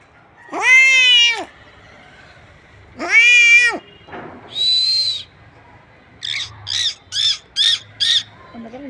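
A person imitates a cat: two drawn-out meows, followed by several shorter animal-like calls in a quick series.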